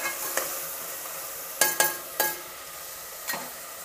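Tomato pieces softening in hot oil give a low sizzle, with a few sharp scrapes and knocks of a spoon stirring the pan, two close together midway and another near the end.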